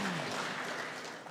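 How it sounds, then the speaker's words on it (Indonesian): Audience applause at the grand opening of a campus immigration service point at a university, a short steady wash of clapping with a voice heard faintly over it. "Sekali lagi tepuk tangan Pak Menteri."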